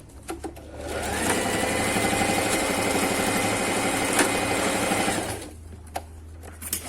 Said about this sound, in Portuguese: Só uma costurinha de zigue-zague para prender o elástico